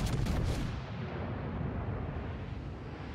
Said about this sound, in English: those are some high explosive shells right there